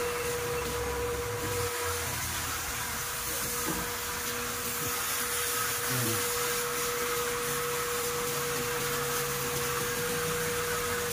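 A Carrier window-type air conditioner runs on test after a capacitor replacement, with a steady fan whoosh and airflow hiss plus a constant tonal hum, continuous and fairly near with no talk.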